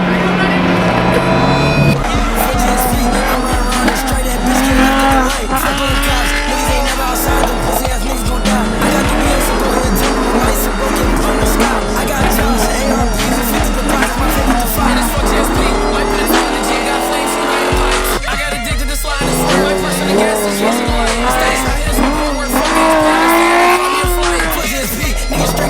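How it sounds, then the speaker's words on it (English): Loud car burnout with sustained screeching tire squeal and a roaring engine, continuous and close for the whole stretch, with brief shifts in pitch as the revs change; voices talk excitedly over it. "I bet you don't do a burnout right now."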